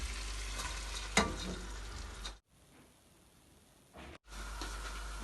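Leeks frying in a pan give a steady close sizzle with a brief stirring clatter, then the sound drops away for nearly two seconds before the sizzle returns.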